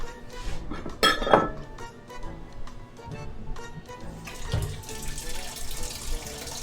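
Water runs from a kitchen tap into a pot, with clinks of dishes and metal in a sink and a louder gush partway through, close by.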